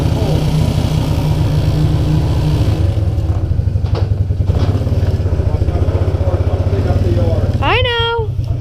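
An ATV engine idling just after a cold start without the choke, a loud, steady low chugging putter running throughout, close by, with a short rising squeal near the end.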